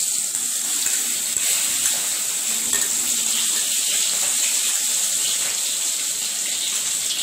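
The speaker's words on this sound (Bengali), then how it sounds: "তেল গরম হয়ে গেছে, মাছটা দিয়ে দেওয়া হচ্ছে।" Medium-sized pomfret fish frying in hot oil for a mustard curry, a loud continuous hiss and crackle of spitting oil held close and steady throughout, with no voices.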